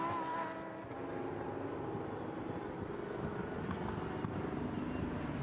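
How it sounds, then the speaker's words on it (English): Lamborghini Super Trofeo race car at the Nürburgring taking a turn during a 2020 European race, its engine a steady, loud drone throughout with no clear pass-by peak. "Car number 30 turns through."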